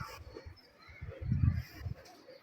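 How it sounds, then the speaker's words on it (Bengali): Low, throaty pigeon cooing repeats in soft pulses nearby, with the calls swelling in the middle before trailing off. "এই কবুতরগুলা, এই আমার কবুতর"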